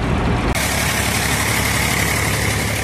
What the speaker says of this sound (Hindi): ट्रैक्टर का रिवर्स कीजिए, ईंटों के गारे को बड़े आराम से बाहर निकलता है